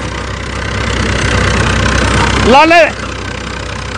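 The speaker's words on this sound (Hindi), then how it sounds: "तो भाई बंद नहीं हुआ भाई, तीसरे में भी चल रहा है" An HMT tractor pulls a 7-foot Punni super seeder in third gear, its engine droning steadily and close throughout, and a voice briefly calls out over it near the end.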